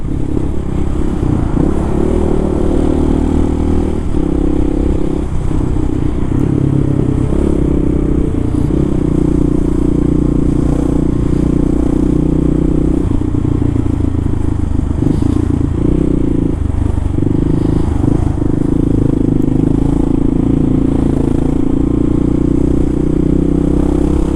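Kawasaki KLR motorcycle riding in cold wind, with a loud steady engine drone and heavy wind buffeting throughout, constant and close.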